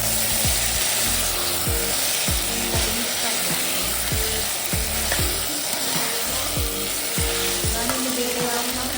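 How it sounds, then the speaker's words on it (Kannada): Carrots and beans stirred in a sizzling pan while cooking veg pulao in a cooker: steady close frying hiss with repeated spoon scrapes and knocks in an uneven rhythm, and no talking. "ಇದನ್ನೆಲ್ಲ ಹಾಕಿ ಒಮ್ಮೆ ಮಿಕ್ಸ್ ಮಾಡುವ"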